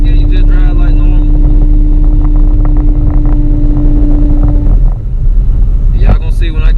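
A turbocharged Camaro with a TH400 automatic and reverse manual valve body drives along in third gear. Its loud, steady engine drone runs throughout with heavy wind rush, then eases off briefly toward the end.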